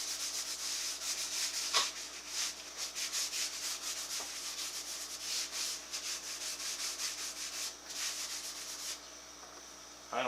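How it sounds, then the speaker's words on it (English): Steady rubbing and light scrubbing strokes as Howard Feed and Wax is worked by hand into the bottom of an old wooden boot jack, a continuous close-up swishing with brief louder scuffs, no voices. "Now I'm going to start off with the Howard Feed and Wax on the bottom"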